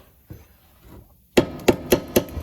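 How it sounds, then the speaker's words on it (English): Four sharp hammer taps on a rusted, rotted rear crossmember of a 2009–2014 Nissan Maxima, evenly spaced and fairly close, after a quieter stretch of faint handling noise. "I'm just gonna tap this with a hammer."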